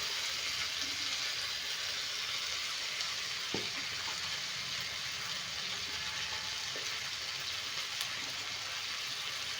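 Chopped tomatoes frying in a pan, a continuous bright sizzle and crackle with a couple of soft clinks of stirring.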